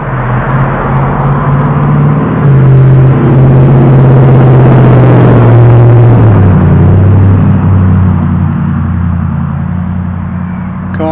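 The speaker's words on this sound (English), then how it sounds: "Cars announcing they're coming and going to the local drug house on Morningside, 2200 block" Car engines rev and rumble on a residential street in the 2200 block of Morningside, a loud, continuous low drone that swells and shifts pitch as vehicles come and go.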